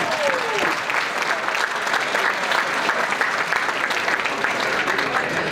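Sustained, even applause from a large audience at a winners' announcement, a thick wash of clapping with a brief whistle at the start and light crowd voices underneath.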